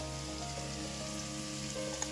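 Potatoes frying in hot oil in a home kitchen, giving a steady, even sizzle and crackle that runs unbroken from start to finish with no voices.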